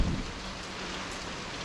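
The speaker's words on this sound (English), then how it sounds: "Got a fair bit of rain coming in today" Winter rain falling in Sarandë, Albania, a steady, dense hiss of drops heard up close, continuous and fairly loud with no voices.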